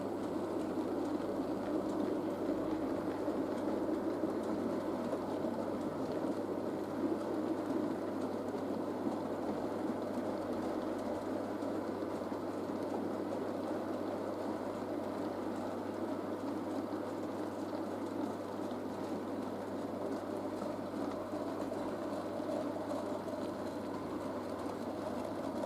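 A model locomotive fitted with a small DJH motor combo runs smoothly along the track, giving a low, even, continuous whir and rumble at moderate level with no pauses.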